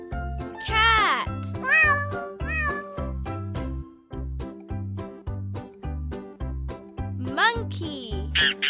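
A cat meows several times, some high and drawn out, over a bouncy, rhythmic children's music backing with a steady beat.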